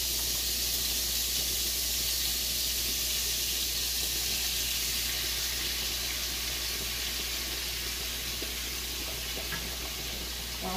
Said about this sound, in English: Then I'm going to go ahead and just add my shrimp in.